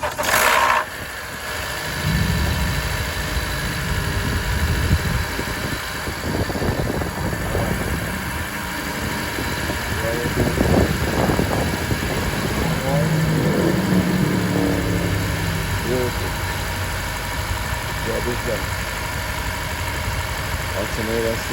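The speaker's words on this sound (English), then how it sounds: "Start the car." A 2013-2017 Honda Accord with a noisy alternator cranks with a loud burst, then settles into a steady, moderately loud idle that continues for about twenty seconds while people talk nearby.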